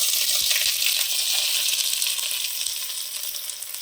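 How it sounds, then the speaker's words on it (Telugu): Ingredients frying in hot oil in a home kitchen pan while cooking dal and country chicken, a loud continuous close sizzle with faint stirring clatter. "ఆయిల్ హీట్ ఎక్కింది, ఇది ఇందులో వేసేసుకొని ఒకసారి ఫ్రై చేసుకొని"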